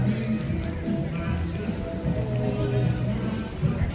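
Rain falling at Universal Studios Hollywood during Grinchmas on Christmas Eve, a steady patter on surfaces with constant crowd murmur and voices mixed underneath.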